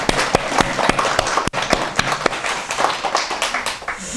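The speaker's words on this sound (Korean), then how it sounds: "우리 아버지에게 격려의 박수 한번 할까요?" A church congregation applauds to honor fathers, a lively burst of many hands clapping with sharp individual claps standing out, loud and close throughout with no speech.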